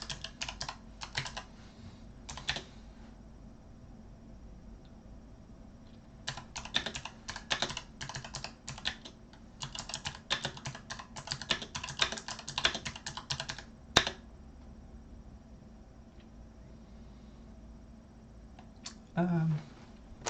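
Bursts of typing on a computer keyboard, clustered keystrokes with short pauses between runs, close and fairly quiet, with a louder clatter near the end.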